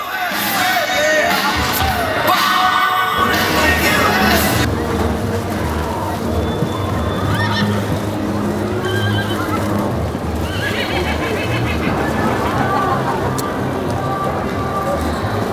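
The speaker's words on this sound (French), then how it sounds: "Nous avons aussi de magnifiques chevaux espagnols dans les tenues." Horses at an equestrian show, including Spanish and Camargue breeds, neigh and clop their hooves on the ground amid a busy, loud arena din. Voices carry faintly through the mix.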